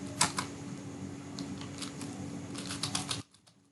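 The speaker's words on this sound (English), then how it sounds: "Suppose that I am typing" Typing on a computer keyboard gives quick, irregular key clicks close to the microphone, faint and alone, stopping abruptly near the end.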